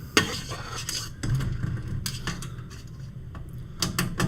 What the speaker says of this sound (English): I'm removing screws